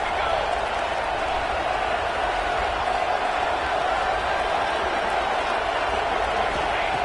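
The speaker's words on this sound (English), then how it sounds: "Listen to the crowd energy here in the early going" A home stadium crowd at a football playoff game roars in a steady, dense wash of cheering and noise that holds evenly throughout without any clear peaks.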